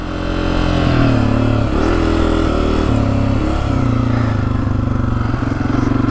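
A 2024 Honda CRF250F dirt bike ridden through hot desert, its engine droning loud and close with repeated shifts in pitch as the throttle rises and eases, plus faint rattling.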